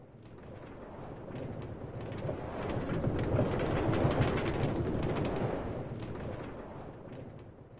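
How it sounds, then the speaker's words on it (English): A New York L subway train on CBTC runs between stations toward Broadway Junction, a steady broadband rumble and rattle that swells to a loud peak midway and eases off, with no voices. "This is a Rockaway Parkway bound L train."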